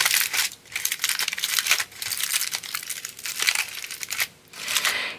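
Aluminium foil crumpled by hand to prop up a polymer clay bowl, close and clear, a continuous crinkling and crackling in several bursts with short pauses between.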